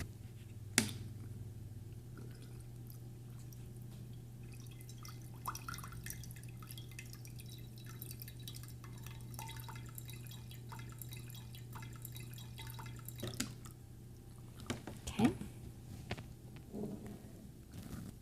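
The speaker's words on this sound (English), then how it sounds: "Let's see how much water flows out of each resistor in 10 seconds." Water drips and trickles out of two parallel resistor tubes driven by a pump in a classroom circuit demonstration, faint scattered drips and splashes over a steady low hum, with a few louder knocks near the end.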